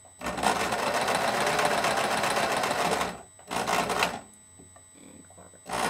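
A sewing machine stitching a seam on a summer dress, a close, loud, steady whirring run for about three seconds, then two shorter bursts separated by quiet pauses.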